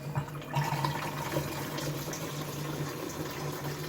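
Water from a tap refills a barrel, a steady gurgling, rushing flow with a low hum underneath, continuous and close throughout.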